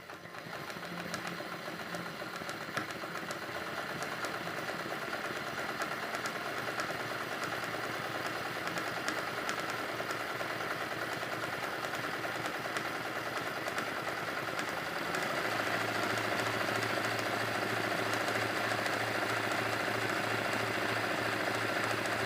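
A sewing machine stitching fabric runs steadily at a fast even hum and rattle for the whole stretch, close and loud, its pitch shifting slightly partway through.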